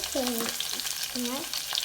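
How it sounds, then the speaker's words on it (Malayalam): Mustard seeds and fenugreek sizzle in hot oil in a pan, giving a short, close hiss with light crackles. "നമുക്ക് അതിലോട്ട് കുറച്ച് കടുകും ഉലുവയും ഇട്ട് കൊടുത്തിട്ടുണ്ട്"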